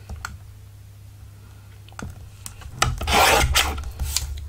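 Paper is cut down for a journaling card, with scattered clicks and taps leading into a close, loud scraping rasp of blade through paper, then a few more crisp snips, over a low steady hum.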